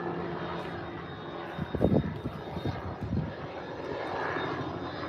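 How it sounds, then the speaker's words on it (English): A distant helicopter drones overhead above a pasture, a steady engine hum that swells briefly and fades, heard faintly outdoors. "There's a helicopter flying over Charlie's pasture there."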